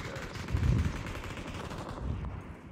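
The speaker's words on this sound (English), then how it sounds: "There's gunshots in my building." Muffled bursts of gunfire in the video game PUBG rumble at a moderate distance, a couple of heavier thumps standing out over a steady low clatter.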